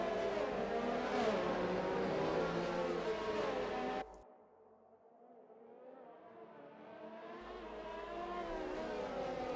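Race cars in an F1-style racing game circle behind a safety car at the Australian Grand Prix, their engines humming steadily at moderate volume. The sound dips sharply partway through, then slowly builds back.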